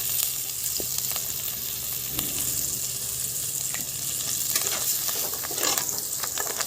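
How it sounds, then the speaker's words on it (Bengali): Prawn malaikari with chopped coriander leaves sizzles steadily in a hot pan, a loud continuous frying hiss with occasional soft pops and light stirring scrapes throughout. "ভালো করে কষিয়ে নিচ্ছি"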